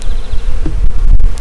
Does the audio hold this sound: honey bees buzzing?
yes